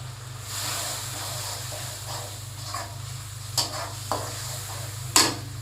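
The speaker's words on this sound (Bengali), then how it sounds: "এখন মশলাটা একদম ভালো করে কষাই নেই" Ground spices (roasted cumin, cardamom, black pepper, cinnamon and cloves) are stir-fried in a pan for pitha, a steady soft sizzle with a few scraping stirs and clinks near the end, close by.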